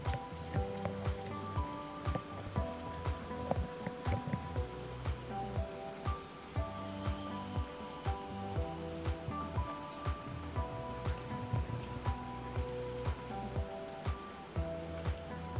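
Onion vada frying in oil, giving a steady, even crackle and bubbling that continues throughout at moderate loudness, with faint soft knocks now and then.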